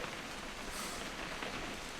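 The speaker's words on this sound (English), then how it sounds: "It's gonna rain the whole weekend, isn't it?" Steady rain falls in the video game What Remains of Edith Finch, a faint, even hiss of drops on surfaces continuing without pause.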